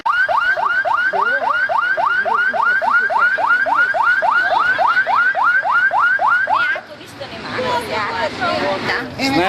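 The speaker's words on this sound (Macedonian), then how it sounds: "Да ја слушнеме и нивната сирена." A fire engine siren sounds during a children's visit to a fire station, wailing in a fast, steady rising-falling cycle about twenty times, loud and close. It cuts off near the end, leaving a burst of crowd chatter and children's voices.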